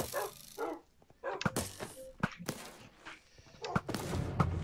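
Tamed dogs in Minecraft yelp and bark in a busy survival fight while arrows are shot, with sharp clicks and impacts mixed in and a voice talking over parts of it.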